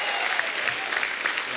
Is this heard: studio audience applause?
yes